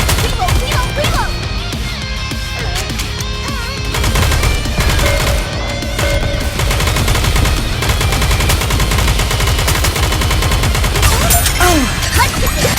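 Dense, continuous gunfire from the mobile shooter game Goddess of Victory: Nikke, rapid automatic bursts layered over game music and effects, with character voice lines breaking in.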